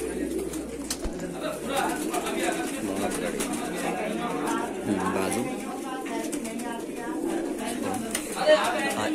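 Lal Ambarsira pigeons, a male and female pair, cooing in repeated soft throaty phrases close by, with someone talking over them throughout.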